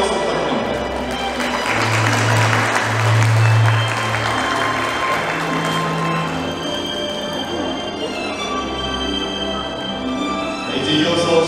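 Steady applause from wedding ceremony guests as the groom's mother lights the ceremonial candle, continuous clapping with background music held under it throughout.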